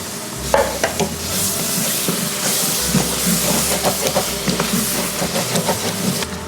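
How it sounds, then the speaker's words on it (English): San Marzano whole tomatoes hit a hot pot with bacon and beans, giving steady sizzling and hissing steam. A spoon stirs and scrapes close by, and a low rumble runs underneath throughout. "And now at this point I toss in San Marzano whole tomatoes."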